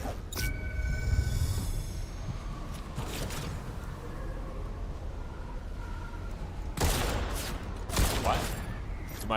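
Bursts of gunfire from the Fortnite video game, a few loud broadband volleys near the start and again toward the end, set over a steady background bed of game sound.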